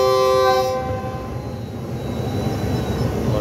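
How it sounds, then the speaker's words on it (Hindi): The Jaffar Express rumbles across the Terak railway bridge in Pakistan, its horn sounding loudly at the start before a steady, close rolling clatter of the moving train takes over. "और ट्रेन भी मूव हो रही है तेरक रेलवे ब्रिज के ऊपर से"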